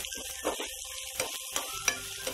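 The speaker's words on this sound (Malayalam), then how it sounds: "ഈ സവോള കൂടി ഒന്ന് ഫ്രൈ ചെയ്തെടുക്കാം" Onions sizzling in a frying pan, a steady close hiss broken by several sharp scraping clicks of a spatula stirring them.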